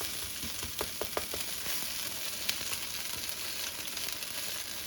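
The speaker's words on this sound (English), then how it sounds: "You see how they're good, how good they're doing? Because my pan is hot." Southern fried fish cakes sizzle in a hot pan, with a continuous close frying hiss, quiet overall, and a few faint taps and crackles scattered through.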